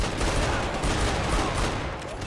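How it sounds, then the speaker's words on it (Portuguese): Dense gunfire in the video game Max Payne 3, a continuous loud fusillade of rapid overlapping shots filling the whole two seconds with heavy low rumble. "Continue atirando! Continue atirando!"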